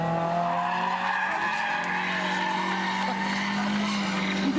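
A SEAT Malaga drifts with tires skidding and squealing in a long, steady screech over a droning engine, loud and close throughout.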